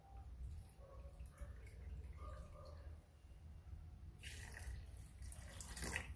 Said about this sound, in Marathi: ज्या वाटीने मी साबुदाणा घेतला तेच वाटीवर आपण पाणी टाकूयात